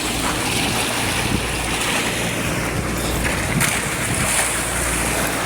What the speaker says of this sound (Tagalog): grabe mga alon.